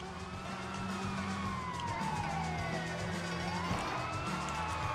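A wailing police siren in the video game Sleeping Dogs rises and falls over a steady engine roar and road noise, loud and continuous throughout, with no one speaking.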